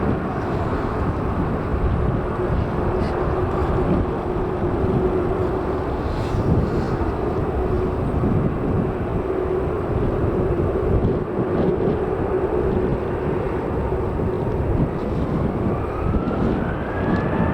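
Large aircraft moving at Manchester Airport give a steady, loud engine roar that holds throughout, with a faint rising whine near the end and no voices.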